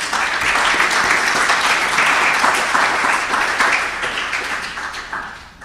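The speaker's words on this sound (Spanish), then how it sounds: "Denle un aplauso por favor a Dios." A church congregation applauds loudly and steadily, a thick wash of many clapping hands lasting several seconds before tapering off.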